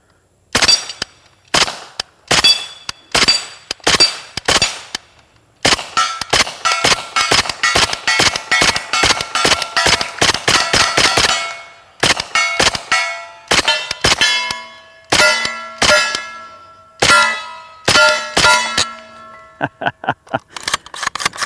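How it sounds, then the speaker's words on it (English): A Kalashnikov USA KP9 pistol fires rapid strings of shots at steel targets, sharp loud cracks each followed by a ringing metallic clang, delivered in quick bursts with short pauses between groups. "Oh man, such a smooth shooting gun."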